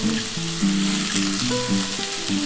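Beans tossed into hot ghee in a wok with carrots, sizzling in a steady, close, bright crackle that runs throughout, with faint tonal music underneath.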